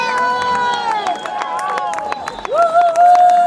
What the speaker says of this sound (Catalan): Fora aplaudiment, no?